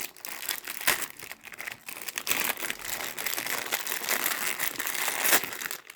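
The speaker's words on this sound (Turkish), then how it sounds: "Şimdi yedek filtreyi açıyorum." Plastic packaging of a spare Brita water pitcher filter crinkles and tears open in continuous close handling noise, with a few sharper crackles and no voices.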